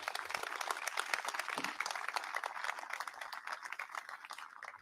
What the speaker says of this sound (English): go ahead, give them a round of applause.